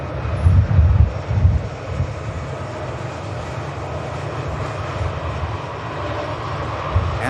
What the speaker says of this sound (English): just coming past us is the Aer Lingus